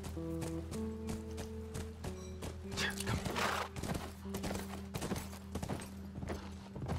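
Horse hooves clop in rapid, uneven beats in the video game The Last of Us, faint under a steady musical drone, with brief talking between characters.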